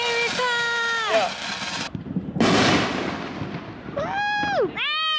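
Fireworks and firecrackers bursting during a Fourth of July celebration at Boom City, with crackling, popping blasts and hissing under excited shouting, then rising whistling tones near the end.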